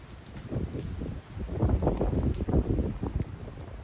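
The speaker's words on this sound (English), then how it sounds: "Windy." Gusty wind from Hurricane Francine buffets the microphone in low rumbling surges, rising and falling, with rustling noise and no talk.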